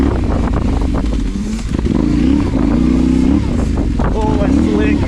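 A Yamaha Tenere 700 adventure motorcycle rides a single-track dirt trail, its engine droning loud and close throughout with rising revs and shifting pitch, plus clatter from the bike over rough ground.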